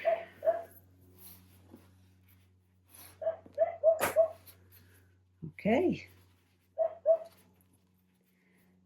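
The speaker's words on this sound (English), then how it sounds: "I apologize for my dog. He is out there barking at a lawnmower." A dog barks outdoors at a passing lawnmower, short paired yaps in scattered bursts heard from a distance behind a person talking quietly indoors.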